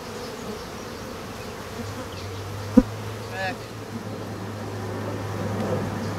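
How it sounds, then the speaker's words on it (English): Honeybees buzz around an open beehive during an inspection, a steady faint drone close by with one sharp knock partway through and a low hum underneath. "A couple of these bees just won't leave me alone."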